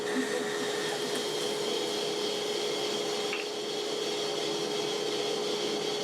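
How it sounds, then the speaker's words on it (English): Bandsaw cutting a circular lamp base out of a larger wooden piece: a steady, even whir and rasp of blade through wood that holds constant throughout, with no pauses or voices. "The base I'm going to cut out of a circle out of a larger piece on the bandsaw"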